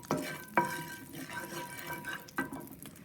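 Collard greens frying in oil in a pot, a soft steady crackle broken by a few sharp clanks of a utensil stirring against the pot, with no one talking.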